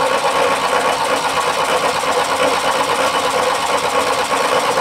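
A Craftsman LT1000 lawn tractor's Briggs opposed-twin engine runs after starting, a loud, steady, buzzing mechanical drone that holds constant and alone throughout.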